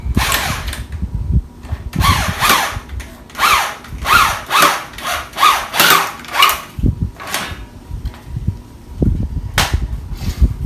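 A power drill drives a screw into a wooden desk leg, close and loud, the motor whirring in repeated rising bursts as the screw bites and is pushed down, with a brief pause before a final burst.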